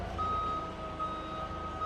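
A Yale GLP050 5,000 lb propane forklift reverses in tight quarters, its steady engine rumble under a repeating high reverse beep that sounds in even pulses close by.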